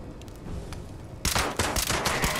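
Rapid automatic turret gunfire in Fallout 76 starts abruptly after a quiet moment, a close, loud rattling burst of shots in quick succession.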